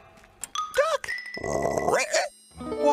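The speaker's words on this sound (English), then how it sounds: "Was that a hiccup I heard?" A cartoon duck gives a quick squeaky hiccup, a short voiced yelp set among bright cartoon sound effects, heard up close with no other talk over it.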